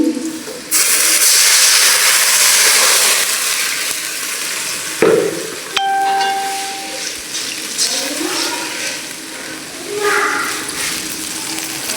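Loud, steady sizzling hiss of water poured onto frying onions in a hot pan, with a brief burst and bubbling partway through as the sizzle slowly settles.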